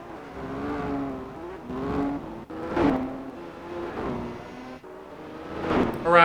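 Race cars in Gran Turismo 4 pulling into the pits, engines rising and falling in short revving bursts with whining gear changes, several pulses close by and no voices.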